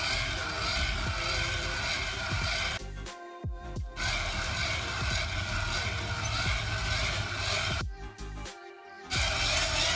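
Steady whirring drone of a hand-crank flashlight being turned, continuous and fairly loud, broken by two brief pauses and a fresh burst of cranking, without talk.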